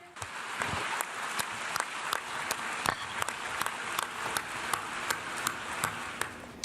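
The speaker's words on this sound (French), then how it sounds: "l'Assemblée générale de l'ONU, qui a applaudi le président de la République" The UN General Assembly hall fills with sustained applause for the French president, a dense wash of many hands with sharp individual claps standing out at a fairly regular beat throughout.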